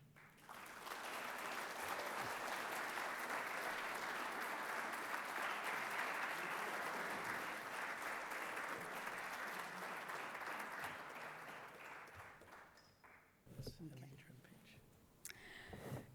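An audience at a volunteer recognition awards ceremony applauds an honoree, a full steady wash of clapping that holds for about twelve seconds before tapering off into scattered claps and murmurs.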